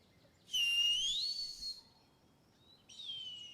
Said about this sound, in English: If you put on the glove and whistle like Ines does, the falcon will come